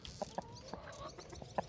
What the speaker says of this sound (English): I really love my chickens.